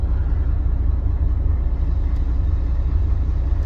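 A bus diesel engine idles steadily after a hard start, giving a continuous low rumble close by with no talk over it.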